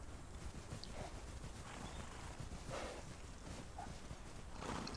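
Horse hooves in the Old West video game Outlaws of the Old West, a steady muffled clip-clop over a constant background wash, with no distinct speech.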